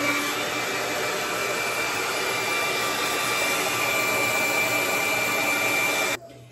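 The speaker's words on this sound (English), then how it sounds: "I'm gonna hit it with the dryer on cold." A hair dryer on its cold setting blows steadily at close range with a constant whooshing roar and motor whine, cutting off abruptly near the end.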